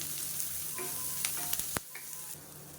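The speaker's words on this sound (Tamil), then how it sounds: "இப்போ நல்லா வதக்கியாச்சு" Carrot and mixed vegetables sauté in oil in a pan, giving a steady close sizzle with a few sharper clinks and stirring scrapes.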